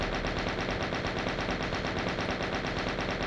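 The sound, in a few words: gunfire shooting Arachnotrons in video game Doom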